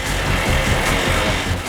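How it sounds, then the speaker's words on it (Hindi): A motorbike engine gives off a continuous, fairly loud broadband roar for a brief moment, steady and unbroken, with nobody speaking. "हम तुम्हें कुछ बाइक्स की आवाजें सुनाएंगे"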